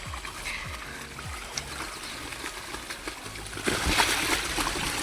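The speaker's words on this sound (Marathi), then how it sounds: "आडा केला, पाणी गेलं खाली." Irrigation water trickles and splashes downhill through a fodder grass field, a close, continuous gurgle with a few soft knocks, growing a little louder toward the end.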